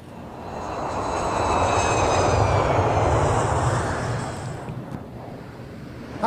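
A propeller airplane passing overhead in San Francisco, a loud, steady engine drone that swells and then slowly fades, with wind buffeting the microphone and no talking.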